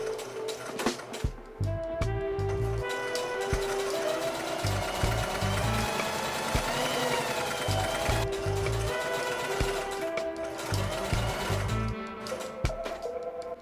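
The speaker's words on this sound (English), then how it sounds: "I'm gonna use my sewing machine for that" A sewing machine runs in steady bursts of rapid stitching, stopping and starting several times, close and fairly loud with no talking.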